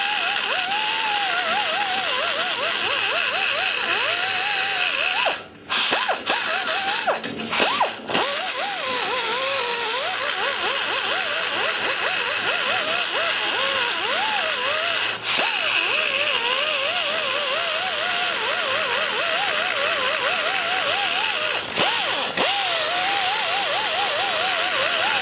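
A carbide burr spins at slow speed while porting an LT-1 cylinder head, a steady, loud, whining grind that holds throughout with brief dips and pauses where the tool lifts off the metal.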